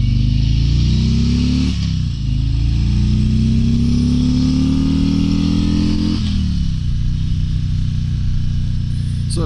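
A 2022 Harley-Davidson Tri Glide Ultra trike's engine pulls away, a loud, close low rumble that climbs in pitch through the gears with a couple of shift dips, steady and without talk.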